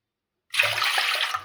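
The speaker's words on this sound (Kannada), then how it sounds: "4 ಬೌಲ್ ನೀರು ಹಾಕೋತೀನಿ ನೋಡಿರಿ." Water is poured into a pot to cook rice papad, starting abruptly after a brief silence as a close, steady splashing gush that continues to the end.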